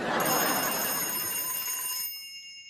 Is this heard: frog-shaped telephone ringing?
yes